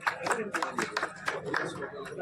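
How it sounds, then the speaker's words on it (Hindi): Applause from a crowd at a commemorative village gathering in Sujangarh welcoming a guest, a sparse, uneven patter of claps from a modest group, fairly near and continuing throughout. "उनका स्वागत जोरदार तालियां बजाएं"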